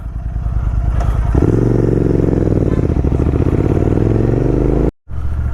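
A motorbike ridden on a road near Haridwar while low on fuel gives a loud, close engine drone with rapid thumping pulses that grows fuller after a second, then cuts out briefly near the end and resumes.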